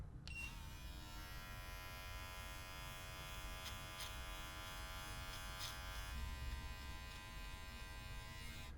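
Electric beard trimmer fitted with a millimeter guard, buzzing steadily up close with a constant tonal hum, a few faint clicks as it moves through hair.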